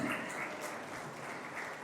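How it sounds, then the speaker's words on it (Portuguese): Congregation clapping in praise during a church sermon, a brief, fairly quiet burst of dense applause. "Você pode aplaudir ao Senhor?"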